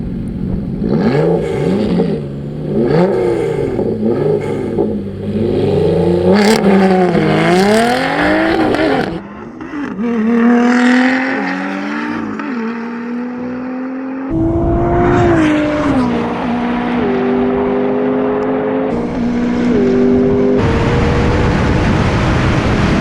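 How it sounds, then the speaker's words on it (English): A McLaren 675LT and a Lotus Exige V6 Club Racer launching in a drag race, their engines roaring loudly and close, revving up through rising and falling gear changes with tire noise, continuous and dominant throughout. "Because the tricky launch control of the McLaren will hinder the McLaren's getaway."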